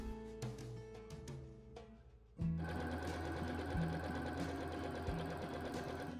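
A domestic sewing machine stitches a seam on a jacquard jacket, first in a few short halting bursts, then after a brief pause in one fast, continuous, close whirring run. No voices are heard.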